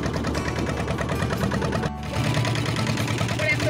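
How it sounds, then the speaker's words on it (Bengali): A loud, steady engine drones close by throughout, a constant rumbling mechanical noise with a brief dip near the middle before it resumes. "ইঞ্জিনের এত আওয়াজ, ঠিক মতো কথা শোনা যাচ্ছে না"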